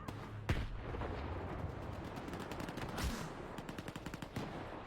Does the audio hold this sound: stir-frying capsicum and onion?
no